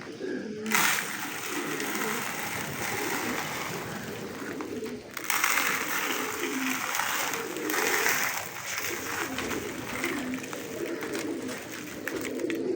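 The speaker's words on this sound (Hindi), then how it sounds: "ये अपने कबूतरों को अब डालने लगे हैं दाना" Pigeons coo and flutter close by while breeding grain scatters, with a busy rustle of birds feeding and a few brief bursts of wing noise.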